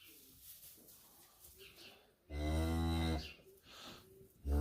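A cow moos loudly in a barn just after calving, one long sustained bellow standing out against quieter background shuffling and ambient noise.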